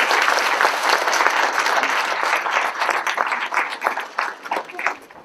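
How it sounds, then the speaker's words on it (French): An audience in a town hall at an 11 November remembrance ceremony applauds loudly, the dense clapping thinning into scattered claps toward the end. "je crois qu'on peut les applaudir."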